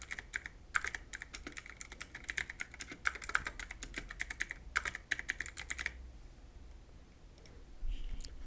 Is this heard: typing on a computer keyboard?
yes